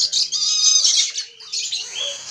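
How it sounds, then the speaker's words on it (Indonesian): A black-capped lory parrot chick squawks in harsh, shrill bursts close up, a near-continuous scratchy call with a brief pause before it resumes, with no talking. "ini panen satu ekor nuri kepala hitam"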